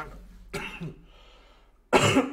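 A person coughs, followed by a quieter pause and then a second, louder burst of coughing, close to the listener.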